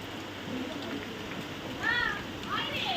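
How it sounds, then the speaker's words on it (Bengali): Heavy rain pours down in a steady, even roar through the whole stretch, with a cat meowing twice near the end. "দেখ আবার ঝমঝমিয়ে বৃষ্টি শুরু হয়ে গেছে"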